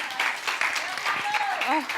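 Audience applause, a brief burst of clapping with a voice speaking over it.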